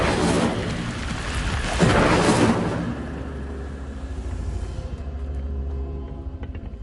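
An Incendio fire spell cast in Hogwarts Legacy, a loud whooshing burst of flame that swells and then trails off into a low, fading crackle and rumble.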